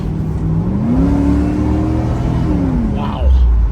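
A 1991 Pontiac Firebird Formula engine rises in pitch as it accelerates through a turn, revving steadily louder, then eases off before a deeper rumble returns near the end.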